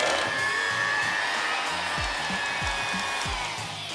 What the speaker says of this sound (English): Now beat the butter and icing sugar together.